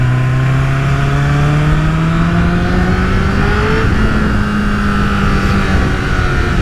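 Honda CBR1000RR Fireblade SC59 superbike engine revving close up, a loud steady drone whose pitch climbs smoothly as it accelerates for several seconds, with no talk.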